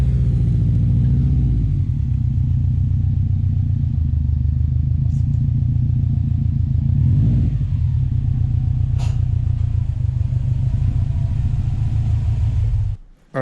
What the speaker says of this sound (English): All right, so we're just gonna bring it back into the garage